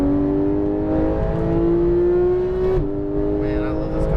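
A Lamborghini Huracan Performante on a race track at EXR Las Vegas holds a steady, loud engine drone at high revs, then drops pitch sharply on a downshift before pulling again.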